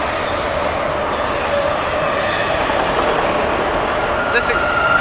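A CSX freight train of auto rack cars passes in Germantown, a steady close rumble of rolling wagons with a faint thin squeal near the end, and a voice talks briefly over it.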